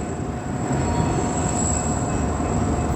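Freight train carrying steel coils rolling past on the Stony Point line in Melbourne's bush outskirts, a steady, loud, continuous rumble of wheels and wagons with a faint high whine throughout, no voices.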